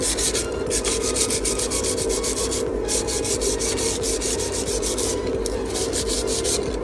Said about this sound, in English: take your bus bar and maybe grab a piece of sandpaper. Just kind of score it.